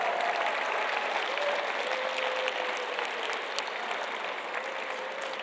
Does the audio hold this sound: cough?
no